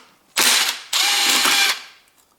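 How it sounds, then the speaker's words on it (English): A ratchet fitted with a 10mm socket works the fuel injector rail bolts on a BMW 3 Series engine, giving two close, loud bursts of fast clicking, the second longer than the first. "fuel injector steel rails 10mm bolts away in here, and I need 10mm socket"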